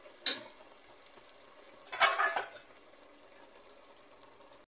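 Mutton hits hot oil in a pot for dum biryani and is stirred, giving a sharp sizzle at the start and a louder burst of frying and scraping midway, with faint crackle between. Close and fairly quiet, with no talking.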